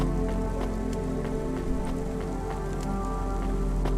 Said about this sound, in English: For the future and forever, endless rain.